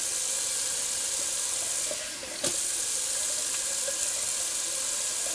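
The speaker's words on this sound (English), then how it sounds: "Do a little cold water rinse because I am good to go." A water tap runs cold water into a sink for a face rinse, a steady hiss heard close by, with a brief splash and a change in the flow partway through.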